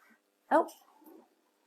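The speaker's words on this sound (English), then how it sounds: "I think it's a dog" A dog gives a single short yelp or whimper, fairly faint and nearby, followed by a softer trailing whine in an otherwise quiet room.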